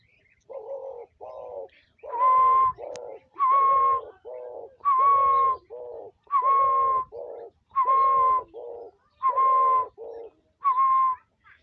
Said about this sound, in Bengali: উড়ো ডাক দিচ্ছে সবাই, ও বাইরে কোনো একটা পাখি ডাক শুনেছে